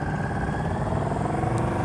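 Motorcycle rolling to a stop at low speed with the clutch pulled in during a Chicago slow-speed riding practice, a short steady engine rumble at moderate distance, easing slightly without revving.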